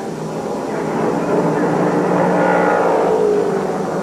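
A 1968 Mustang and Camaro race side by side down the front chute of a track, their engines a dense, roaring drone that swells and fades as the cars pass at a distance.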